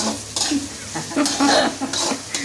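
Onions frying in a pan and being stirred with a spoon, with repeated scraping and clinking strokes over a low sizzle, close and fairly loud.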